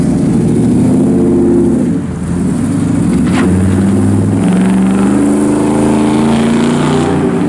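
A 1965 Chevrolet Chevelle Malibu SS 396 V8 runs loud and close with a steady, deep engine roar that holds and swells slightly, with no voices.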